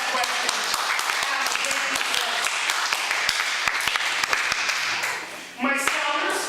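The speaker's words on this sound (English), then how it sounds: "We have a round of applause for that question." A lecture-hall audience at a college guest talk claps steadily in a warm round of applause after a question, dense and close, dipping briefly before swelling again.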